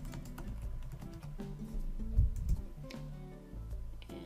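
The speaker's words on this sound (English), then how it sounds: "I'll just type a few things." Fingers type on a computer keyboard in Notepad, producing a quiet, uneven patter of key taps over a few seconds with no talk.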